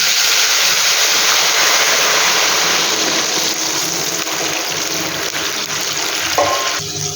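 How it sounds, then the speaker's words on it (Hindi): Chicken stock (yakhni) pours into a pot of browned onions. It makes a loud, continuous rushing splash with a sizzling hiss that tapers slightly near the end. "अब इस पॉइंट पे हम इसमें अपनी यखनी शामिल करेंगे"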